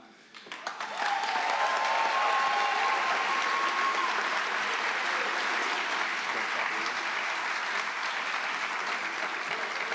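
Audience applause at a high school honors convocation, swelling in within the first second into sustained, loud, dense clapping from a large crowd that holds steady to the end.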